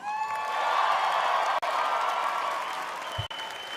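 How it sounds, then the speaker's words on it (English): Audience applause fills a resort hall at the 2019 Miss USA preliminary competition at the Grand Sierra Resort in Reno Tahoe, a steady dense clapping with faint whoops, cutting off sharply twice near the end. "So let's hear all that applause tonight."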